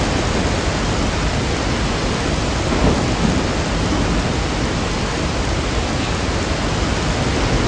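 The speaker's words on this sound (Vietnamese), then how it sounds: "trời mưa làm game của mình lag hẳn đi" Steady heavy rain with rolling thunder fills the scene in the video game Resident Evil 4, a dense continuous downpour with a brief louder rumble near the middle and no voices.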